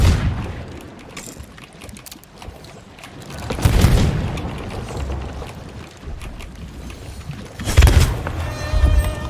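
Two heavy, booming gun or cannon blasts go off in the Sea of Thieves pirate game, several seconds apart, over a continuous rushing sea and ship ambience.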